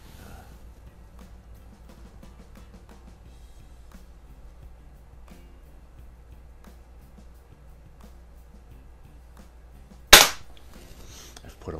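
A single sharp shot from a Snow Peak SP500 .22 caliber pellet pistol, still dieseling slightly from construction lubricant, cracks out near the end after a long quiet stretch, then decays quickly.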